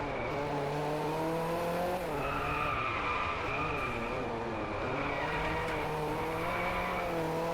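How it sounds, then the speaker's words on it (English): Le Mans race cars in Driveclub, engines droning at high revs with wavering pitch as they race, a continuous steady roar with shifting tones throughout. "I'm racing against a Le Mans car."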